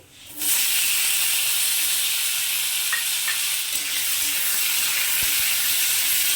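Cut potatoes drop into hot oil with garlic for an aloo-begun methi shak, setting off a loud, steady sizzle after a brief quiet start that holds as a dense, even hiss throughout.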